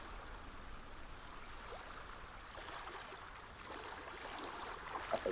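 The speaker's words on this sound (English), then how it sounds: "That's a lovely little waterfall." Steady splashing of a small waterfall in the video game Hellblade: Senua's Sacrifice, a continuous mid-level broadband rush of falling water that holds even throughout with no talk.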